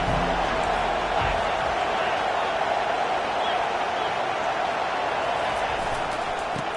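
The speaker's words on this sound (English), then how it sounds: "This crowd trying to make life miserable for this offense." A college football stadium crowd roars continuously during play, a dense, steady wall of noise with no breaks.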